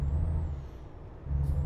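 Air brake hiss and low diesel idle of a truck in Euro Truck Simulator 2, a steady engine drone dipping mid-clip before swelling again, with a faint high whine on top.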